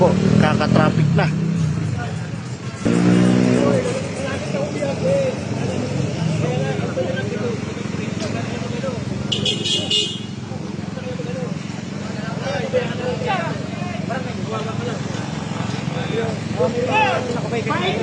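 Busy road traffic with cars and motorcycles, a steady loud rumble of engines heard close by throughout, with a brief horn blast near the middle and voices talking over it.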